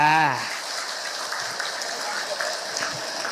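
Audience at an Islamic lecture applauding after a brief voice at the start, a diffuse patter of many hands clapping that carries on steadily at moderate loudness.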